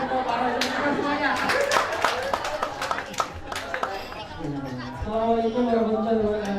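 Scattered handclaps from a small group ring out in a room amid chatter, followed by someone speaking.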